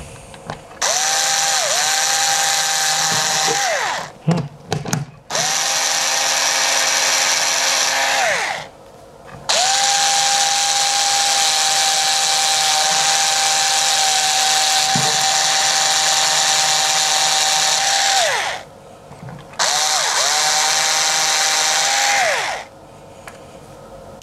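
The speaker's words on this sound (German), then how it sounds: "Da nehme ich jetzt so einen kleinen Schrauber und bohre das einfach hier unten mal rein." A small cordless screwdriver drills a 2.5 mm hole into a model truck trailer, its whining motor running in several sustained bursts with short pauses and pitch dips between them, close and loud, with no talk.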